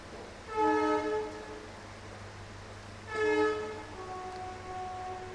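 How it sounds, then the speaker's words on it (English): An Indian Railways train passes on a line behind an office, sounding two long, loud horn blasts a few seconds apart, with a steady low rumble underneath and a fainter tone lingering after the second blast. "there is a train line behind the office. So you will always find this noise in our video of Indian Railways"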